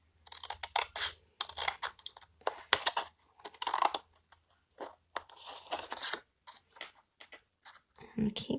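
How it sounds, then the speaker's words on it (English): Cardstock is cut along a score line in short bursts of crisp scratchy cutting and crunching, with brief pauses between strokes and quiet talk in between. "And just cut right along that score line that we've created."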